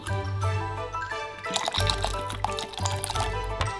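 Soy sauce pours into a marinade of honey, vinegar and pear in a thin, gurgling stream, close and clear with a few drips as it trickles into the bowl.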